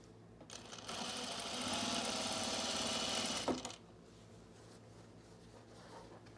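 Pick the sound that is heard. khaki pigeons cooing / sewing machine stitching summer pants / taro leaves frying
sewing machine stitching summer pants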